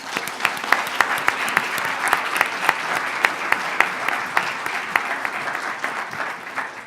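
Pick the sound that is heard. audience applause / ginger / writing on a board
audience applause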